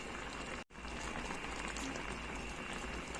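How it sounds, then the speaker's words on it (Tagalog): A pot of Filipino fish stew, pinangat na isdang sap-sap, bubbling at a steady rolling boil, a soft continuous hiss and popping broken only by a split-second dropout. "Kuluin natin ulit."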